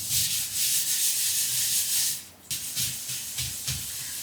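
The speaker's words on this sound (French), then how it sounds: "C'est simple, on gratte." Scraping a surface wetted with hot water: steady, loud rasping strokes for about two seconds, a short pause, then a run of shorter, choppier scrapes, with no talking.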